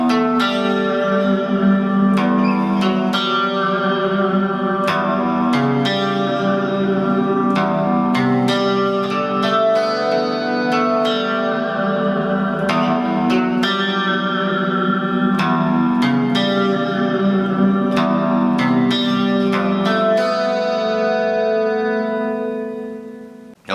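An electric guitar plays a riff, a repeating arpeggiated figure of clean picked notes wrapped in lush delay, chorus and reverb, ringing on continuously and fading out at the end.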